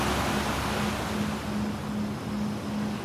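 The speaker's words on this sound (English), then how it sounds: "enjoy the calming sounds of the ocean" Ocean waves wash in a steady, broad roar of surf, with a faint low tone pulsing rhythmically underneath.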